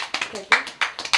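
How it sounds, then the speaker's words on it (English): Children in a beginner Igbo language lesson clapping for themselves, several sharp close claps in an uneven rhythm over a brief moment, with voices mixed in. "Clap for yourself."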